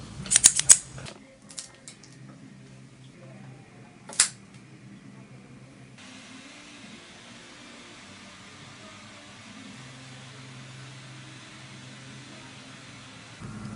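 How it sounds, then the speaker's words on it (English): A few sharp, crisp snips of a V-cut cigar cutter cutting a cigar near the start, then a quieter mechanical click, followed by a faint steady hum of background noise. "This week I am going to use a V-cut."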